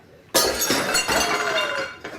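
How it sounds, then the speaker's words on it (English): A glass bowl breaking at home: a sudden sharp crash followed by ringing, tinkling shards settling, then a softer clink near the end. "I broke Mom's bowl"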